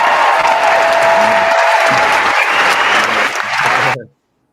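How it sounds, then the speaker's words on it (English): Applause from an audience at a Five Percent Nation of Gods and Earths gathering, loud continuous clapping and crowd noise that holds steady, then cuts off abruptly near the end. "give him a round of applause for that one right there"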